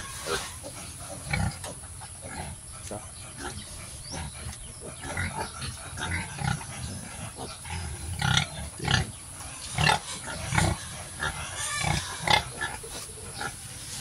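A native boar grunts close by in a farm pen, giving repeated low, rough grunts and snorts that grow louder and more frequent toward the end, with no voices over them.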